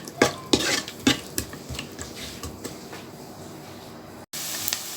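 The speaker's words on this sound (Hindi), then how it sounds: "प्याज को थोड़ा सा हम लोगों ने फ्राई किया है थोड़ा सा।" Roughly chopped onions frying in oil in a pan, with sharp clinks of a spoon stirring against the metal over a faint, low sizzle.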